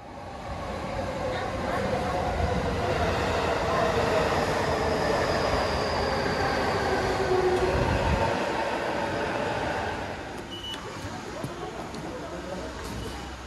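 A JR Nambu Line train rumbles loudly at close range at Kashimada Station with rattling wheels and a faint squeal, then the noise drops as it slows, with a voice speaking briefly.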